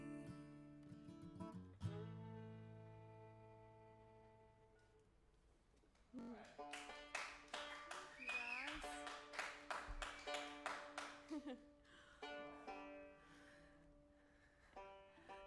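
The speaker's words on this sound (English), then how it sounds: "at least one or two people clapping" Claps from a small live-radio audience break out after a song, a handful of sharp, uneven hand claps ringing out over lingering instrumental tones, fairly close and sparse rather than a full crowd.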